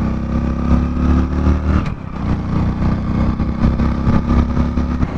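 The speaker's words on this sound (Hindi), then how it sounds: "आपने देखा बाइक स्टार्ट हो गया" A Hero Splendor Plus BS6 motorcycle engine runs steadily after starting, a loud, close, continuous low putter with a brief dip in the middle before settling back to an even idle.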